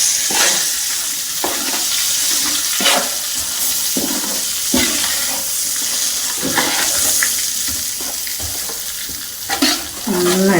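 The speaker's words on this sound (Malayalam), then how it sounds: "നന്നായിട്ട് ഇളക്കി കൊടുക്കാം." Hot oil poured over ground spice powder is stirred steadily with a spoon, giving a continuous close sizzle with repeated scraping strokes while making a mango pickle.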